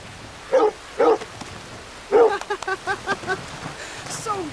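In the Red Dead Redemption 2 video game, a happy dog lets out two short barks, then a quick run of excited yips and whimpers. The sounds are close and loud, with faint background noise.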